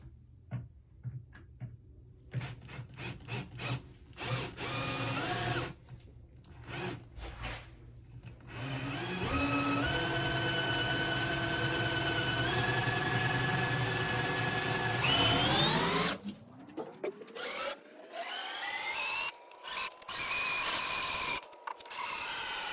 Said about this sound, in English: I'm gonna go ahead and drill these 3 holes with the drill